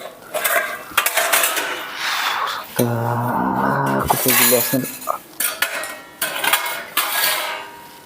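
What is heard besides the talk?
pots and pans clattering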